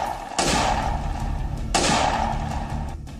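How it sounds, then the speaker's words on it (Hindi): Pistol fired on a Delhi street, two sharp loud cracks about a second and a half apart, each followed by a brief echoing decay over low background noise. "पिस्टल से कई राउंड फायरिंग,"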